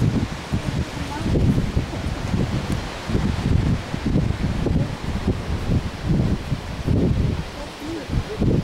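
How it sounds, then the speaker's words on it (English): Strong gusting wind buffets the microphone outdoors at a castle entrance, a rough continuous roar with irregular surges, with voices faintly present under it. "It's very windy here today."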